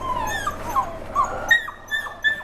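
Labradoodle puppies whimper and yip close by, a run of short, high, thin cries and squeaks repeating every half second or so.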